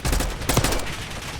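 Three-round bursts from an XM4 rifle fitted with a burst attachment in Call of Duty Black Ops 6, loud, dense clustered game gunfire with rapid repeated cracks and no talking.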